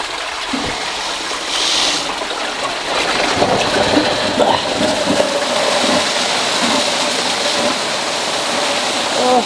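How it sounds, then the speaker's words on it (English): Water drains out of a hydroelectric penstock pipe as a continuous loud rushing and splashing, steady for the whole stretch with occasional spattering on top. "That's the pipe draining."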